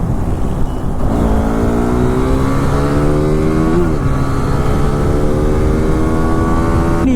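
A motorcycle accelerates hard at high speed, its engine note climbing through gear changes in a loud, sustained rising whine with roaring wind, close and continuous.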